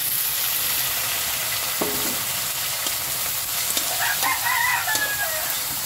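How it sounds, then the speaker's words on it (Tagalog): Chicken pieces fry in a pan with garlic and onion, giving a loud, steady sizzle with occasional scrapes of stirring, and a rooster crows faintly in the background. "Makayat, gisa na natin yung manok."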